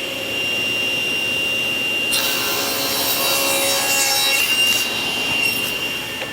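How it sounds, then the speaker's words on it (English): A saw cutting a miter into wooden test pieces for a frame, a steady loud rasping buzz that sharpens and brightens midway as the blade bites through the wood, heard alone. "I'm just going to start mitering one end of each one"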